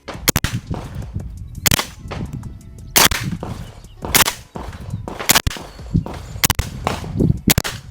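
A suppressed Extar EP9 9mm carbine firing alternating Blazer and 147 grain Federal supersonic and subsonic rounds, a steady series of sharp, close cracking shots about a second apart over clattering action noise.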